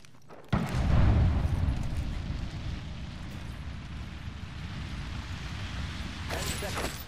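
A grenade in the video game Apex Legends detonates with a sudden, heavy, booming blast followed by a long rumbling roar, and game voices speak around it.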